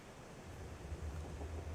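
A steady low rumble of ocean waves plays in the horror walking game Kholat, with a soft broad wash swelling slightly over the short stretch, distant and fairly quiet with no voices.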